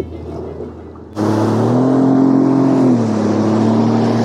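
A group of eleven personal watercraft engines, nearby, surging abruptly into a loud rising roar as they accelerate away together over water, then holding a strong droning whine.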